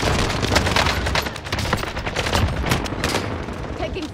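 Dense bursts of automatic gunfire in Call of Duty Warzone, rapid overlapping shots and booms that are loud and continuous, with a player's voice talking briefly over them.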